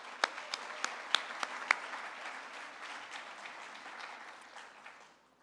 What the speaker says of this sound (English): keep that applause going for our volunteers